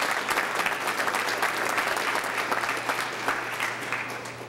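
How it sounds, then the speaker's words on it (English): A dense, steady round of audience applause from a large crowd at a Louisiana higher education event, loud and close, sustained evenly for several seconds without speech. "Let's give the folks at LSU a great round of applause for that accomplishment."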